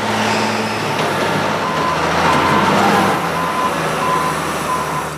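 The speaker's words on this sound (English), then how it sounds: "A bulldozer scoops up the piles." Heavy machinery hauling lake-bottom dirt: a bulldozer and semi-trucks rumble loudly and continuously nearby, with a repeating reversing beep cutting through the engine noise.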